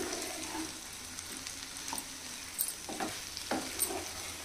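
A spicy onion egg fry sizzles in an uncovered pan as a steady, close hiss, with a few soft scrapes and stirs of a spatula and no speech.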